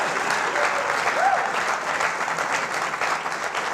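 Studio audience applauding during a TV interview, a steady dense wash of clapping filling the whole stretch at even loudness, with no one speaking over it.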